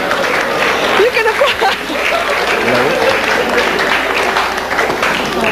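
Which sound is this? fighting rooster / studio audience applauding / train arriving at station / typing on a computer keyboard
studio audience applauding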